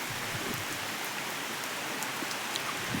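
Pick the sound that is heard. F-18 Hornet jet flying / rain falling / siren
rain falling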